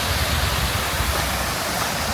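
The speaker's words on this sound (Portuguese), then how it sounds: "tendo o visual aí da queda d'água na construção" Waterfall cascading beside a building in a mountain town, a steady, loud, broadband roar of falling water with no breaks, heard up close and alone.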